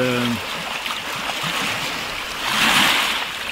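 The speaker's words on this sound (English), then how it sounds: "I hope that the sound of the waves is not too strong for you." Ocean waves at the beach rolling in and washing out, a steady hiss of surf and wind that swells louder toward the end, with a voice speaking briefly at the start.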